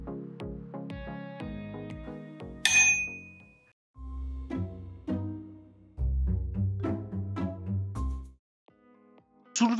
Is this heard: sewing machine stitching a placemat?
no